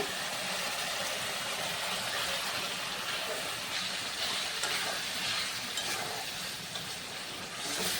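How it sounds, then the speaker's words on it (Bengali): Chhana, cottage cheese, going into a hot pan for a Bengali curry gives a steady, even sizzle and hiss that runs unbroken for the whole stretch at a moderate level, with no talking over it. "আর এখন আমি দিয়ে দেবো ছানা"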